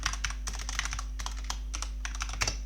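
Rapid, irregular clacking of keys on a computer keyboard while writing code comments, close and clear over a low steady hum, with no one speaking.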